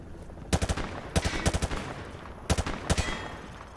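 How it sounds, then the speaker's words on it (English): A rifle fired from the hip at targets in Call of Duty: Modern Warfare 2 Remastered, with several loud, close bursts of three to five rapid shots separated by brief pauses. "Grab that weapon off the table and fire at the targets behind you."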